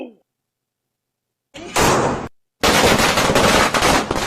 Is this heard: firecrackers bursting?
yes